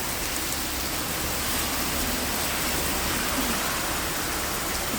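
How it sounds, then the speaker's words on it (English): Steady rain falls in Montreal, Canada, on a summer day near autumn, a dense even hiss of drops on surfaces that stays constant and fairly loud throughout, with no voices. "Today is raining here in Montreal, Canada."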